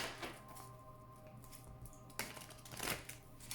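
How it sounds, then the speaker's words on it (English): Oracle cards shuffled by hand at close range, a soft papery riffle and slide with a louder burst of flicking near the end, no voices. "as I shuffle the cards"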